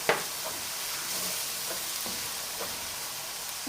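Ginger garlic paste frying in a pan for mutton karahi, a steady soft sizzle with a few scattered clicks and stirring knocks, close and fairly quiet, no talking.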